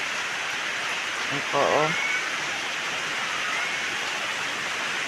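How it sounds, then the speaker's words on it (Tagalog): Steady, dense hiss of early-morning rain falls throughout, with a brief voice speaking softly near the start. "At ngayon po ay napakaaga ng ulan."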